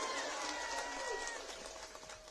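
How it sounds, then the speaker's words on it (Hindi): Crowd applause at an Amit Shah election rally in Manipur, a broad steady wash of clapping from a large audience that fades slightly toward the end, with a faint tonal whistle drifting through. "बसंत कुमार सिंह जी के लिए जोर से ताली बजाइए सभी लोग"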